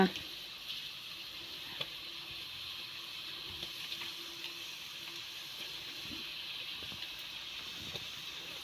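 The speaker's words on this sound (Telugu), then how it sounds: "మంచిగా బ్రౌన్ కలర్ వచ్చేదాకా వేయించుకోవాలి" Homemade potato chips sizzle in hot oil as they fry until browned, a steady, close crackling hiss running evenly throughout with a few faint scrapes.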